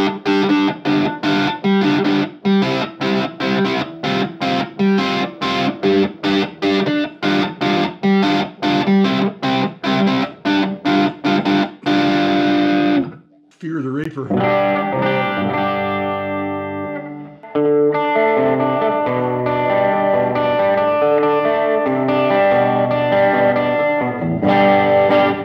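Electric guitar played through a Fender Mustang LT25 amplifier on a song-based preset, distorted and chorus-laden, with rapid rhythmic strummed chords, a short pause, then sustained ringing chords, loud and alone.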